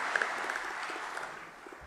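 A church congregation at a Saturday vigil Mass claps in a short burst, a dense, steady patter of hands with roomy echo that thins out toward the end.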